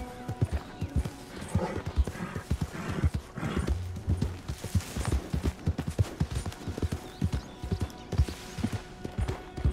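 Steady clip-clop of horse hooves at a walking pace in the video game Red Dead Redemption 2, loud and close, with a brief whinny partway through and soft ambience behind.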